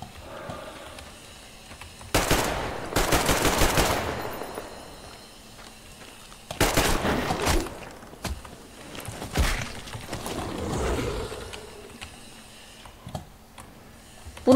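Gunfire in the video game Metro Exodus comes in a few loud rapid bursts of shots separated by quieter stretches with faint footsteps and small clicks.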